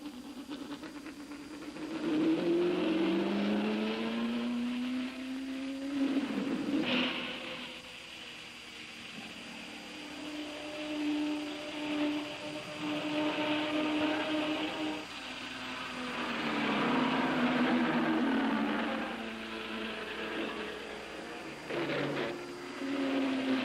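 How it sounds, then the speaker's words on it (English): Race car engines run laps on a racetrack with a hairpin turn, their pitch rising and falling as they pass, a loud, continuous drone with no talking. "The first few laps are run with caution as the drivers get the feel of the track."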